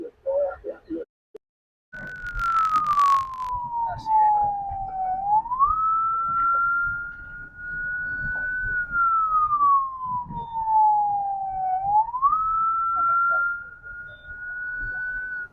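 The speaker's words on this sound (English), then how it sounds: "Them sirens and things." An ambulance siren wails, rising and falling in a slow, steady cycle, loud and continuous over a low rumble of traffic, with brief voices before it starts.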